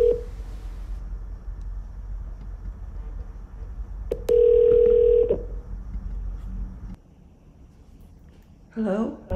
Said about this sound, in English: as you can see on the left, Gilly's cell phone is ringing